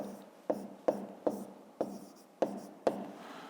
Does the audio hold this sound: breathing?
no